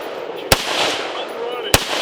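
A 51Fifty rifle fires two sharp, loud gunshots about a second apart at an outdoor shooting range, with steady wind or ambient noise between the shots.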